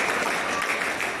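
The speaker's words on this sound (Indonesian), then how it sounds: "Tepuk tangan 1 kali, 3 kali," A group at a writing workshop in an Islamic boarding school in Cianjur claps hands together in a short, dense burst of applause lasting about a second.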